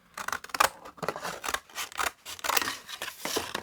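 Scissors snip through a fabric-covered recycled box, a close run of crisp, irregular cutting crunches and scratchy blade sounds, fairly loud and alone.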